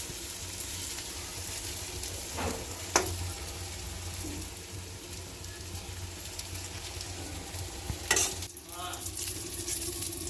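Eggplant fries in a pan with a soft, steady sizzle, broken by a few brief clinks and scrapes, fairly quiet throughout.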